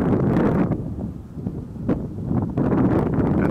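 Wind blowing across an outdoor shooting range where an air rifle is fired, a steady loud rushing buffet that swells and dips, with gusts hitting the microphone and no talking.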